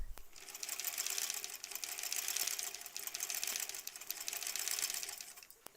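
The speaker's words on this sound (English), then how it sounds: "Just sewing on those lines." A sewing machine stitching a Country Star quilt block along printed lines in foundation paper piecing, a steady fast mechanical whir with rhythmic needle clatter, running close and continuous throughout.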